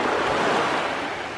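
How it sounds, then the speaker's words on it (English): Ocean surf washes steadily onto a beach on a summer day, a continuous loud broadband rush with no distinct breaks and some wind noise mixed in, no voices present. "So we are at the beach"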